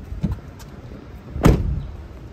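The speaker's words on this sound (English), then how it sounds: "That's how you open your hood" Releasing and lifting the hood of a 2023 Toyota Sienna: a faint latch click first, then a sharper metallic thunk a moment later, with quiet surroundings between.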